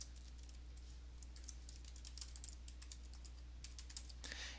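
A rapid run of keystrokes on a computer keyboard as an email address is entered, a steady patter of close, light clicks over a constant low hum, with no talk.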